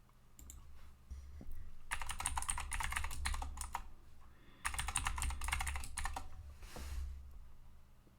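Computer keyboard typing during a Linux Mint installation, in two dense bursts of rapid clicking keystrokes with a short pause between them, fairly close and with nobody speaking.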